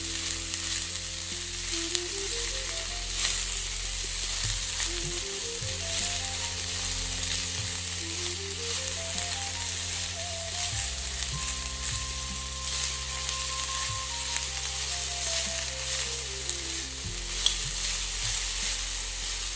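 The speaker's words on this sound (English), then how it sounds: "Keep on stirring the sabji. We are frying it nicely" Steady sizzling of chopped beans frying in a pan, with occasional scrapes of stirring, while soft background music plays.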